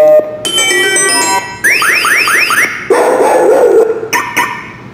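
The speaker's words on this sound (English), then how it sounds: "if they hear these barking sounds and they will think that you have a dog" A motion sensor alarm plays recorded dog barking, with loud, sharp electronic barks and yips in quick bursts and a chirping tone in between.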